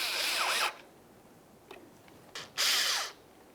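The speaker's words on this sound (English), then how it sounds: "Go ahead and start in that Phillips head screw and snug it up." A power driver whirs briefly, pauses, ticks faintly, then whirs again as a Phillips head screw is snugged into a 2006-2012 Ford Fusion bumper and grille mounting panel, two short close bursts in a quiet space.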